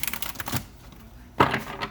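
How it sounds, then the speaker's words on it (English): Oracle card deck being shuffled by hand, giving a near, dry flurry of papery card riffles and taps in two bursts separated by a quieter pause. "2 more shuffles because that one was long."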